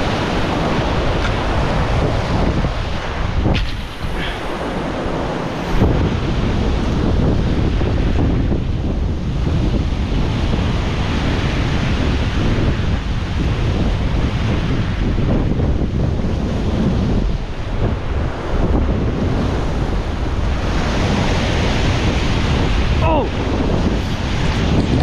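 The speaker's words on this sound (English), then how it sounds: "Huge waves." Huge ocean waves crash continuously on a tropical island shore while strong wind buffets the microphone, a loud, dense roar with no pauses for the full stretch.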